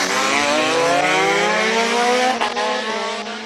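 A Formula-style single-seater race car at a hillclimb speed event in Cape Town screams past at full throttle, its loud engine note sliding steadily upward as it accelerates close by, then fading slightly near the end.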